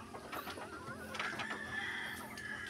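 Native and Black Australorp chickens cluck softly and continuously nearby on a farm, with a few sharper squawks mixed into the low farmyard murmur.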